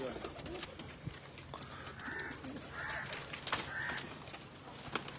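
Pigeons, including a Chinese breed bred by a fancier in Chak Jhumra, coo in short soft bursts against a noisy background, with scattered clicks and a nearby voice talking faintly.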